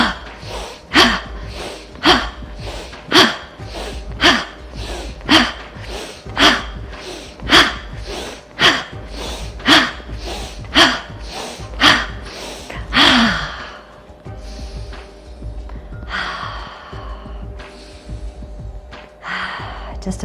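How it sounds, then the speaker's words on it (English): Bhastrika yoga breathing: about a dozen forceful, evenly paced breaths, each a sharp, loud rush of air in and out close to the microphone, then a quieter stretch of softer breathing with faint background tone. "This is a very traditional way to practice Bhastrika breath."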